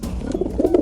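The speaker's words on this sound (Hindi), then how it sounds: "This is pigeon." Pigeon cooing in short, soft, rounded low calls that repeat through a brief moment, with no voices present.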